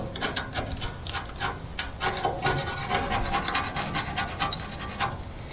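Steel is scraped by hand to strip paint from rusty metal, producing repeated rasping strokes in an uneven rhythm, close and fairly loud throughout.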